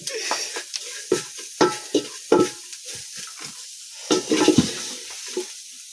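Onions fry and are stirred in a pot over a wood fire in a village kitchen, a soft sizzle with a series of distinct wet scraping and stirring strokes, close and without talk.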